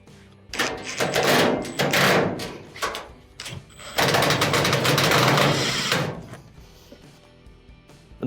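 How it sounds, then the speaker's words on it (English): Two screws being driven back into the panel of an LG dryer during an LED lamp repair, heard as two bursts of buzzy, whirring driver noise, close and fairly loud, separated by a short pause, with a brief clatter between. "We'll reinstall our 2 screws."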